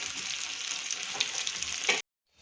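Dabla bhajiya fritters from Khambhat sizzle steadily in hot oil for two seconds, a bright continuous frying hiss that cuts off abruptly into silence.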